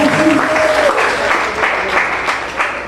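A church congregation applauding steadily and loudly, dense clapping filling the space throughout, with a voice briefly heard over it at the start.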